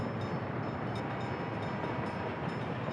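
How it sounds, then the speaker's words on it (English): A train rolls past in the Workers & Resources video game as a steady, dense rumble that holds at an even level throughout, with no voices. "so we've got another train here"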